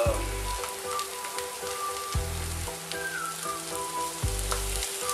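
Diced bell pepper and courgette sizzle steadily in a dry pan with no fat or salt, a close, continuous crackle broken by a few low knocks of a utensil against the pan.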